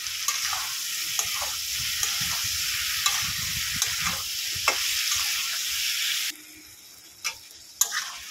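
Potatoes sauté in a hot pan of oil with tomato and turmeric for a fish curry, a steady close sizzle and crackle with occasional sharp taps of a spatula against the pan, then the frying drops away to quiet with a few clinks.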